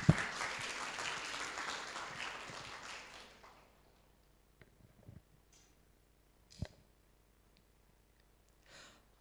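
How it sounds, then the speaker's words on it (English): Online webinar audience applause, a dense patter of clapping for the first few seconds that fades out, leaving near-silence broken by scattered faint clicks and one sharper knock. "let's give one final applause to Mr."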